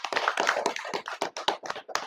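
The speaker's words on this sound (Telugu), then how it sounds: "అందరు చప్పట్లు కొట్టండి" A group of people applauding together at a small honoring ceremony at an ashram, a dense burst of hand claps with irregular rhythm lasting about two seconds, fairly close and without talk.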